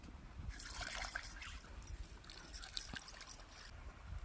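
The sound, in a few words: washing a stone grinding slab (pata) with water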